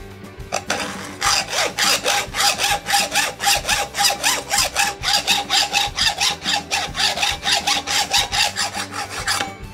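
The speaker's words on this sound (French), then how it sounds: "La méthode consiste à utiliser une scie à métaux pour recréer une empreinte de tournevis plat" A hacksaw cuts a slot into a damaged screw head, giving steady rhythmic rasping strokes, about two per second, loud and close, with no talk.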